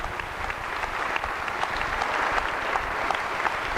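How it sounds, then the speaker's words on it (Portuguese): Sustained applause from a church congregation during a worship service, a loud, even patter of many hands clapping with no pause. "Palmas para Jesus Cristo"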